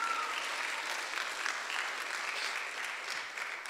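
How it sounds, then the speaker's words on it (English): A church congregation gives sustained applause for the pastor's kids, a dense, even roar of many hands clapping at moderate distance with no break. "Can we give my kids a round of applause?"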